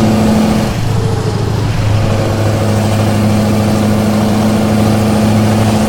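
Scania truck engine in Euro Truck Simulator 2 runs steadily at a low idle-like drone, loud and continuous with a deep harmonic hum and a slight pitch dip near the start, no voices.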